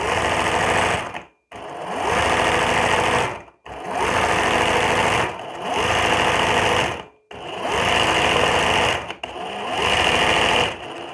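An embroidery sewing machine stitching in five long bursts of steady, loud, buzzing needle action, each separated by a brief pause, with no talk over it.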